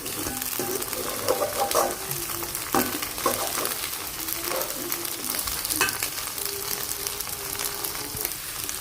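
Egg frying in a pan with vegetables nearby, a lively close sizzle with crackles and scraping stirs running steadily for several seconds, no talking.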